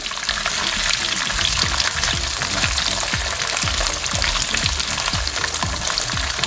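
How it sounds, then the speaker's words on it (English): Diced onion and dried red chili fry loudly in a pan with curry leaves, a dense continuous sizzle broken by a regular series of low stirring thumps. "This to be fried till the onion is translucent."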